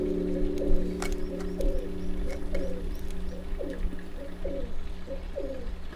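Hill pigeons coo steadily under the eaves of Hwaeomsa temple, a repeating series of soft, low, rounded calls about once a second over a constant background hum.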